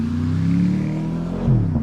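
A Porsche Panamera's V8 engine, an EA825 unit, rumbles loudly and steadily with rising and falling revs and a brief sharp shift in pitch near the end, with no talk.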